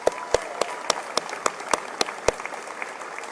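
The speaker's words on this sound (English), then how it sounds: "Let's give them a hand clap." Audience at a Martin Luther King Jr. Day celebration on the UT Austin campus gives a hand clap, a series of sharp, separate claps spaced roughly evenly over a faint background, fairly quiet and without talk.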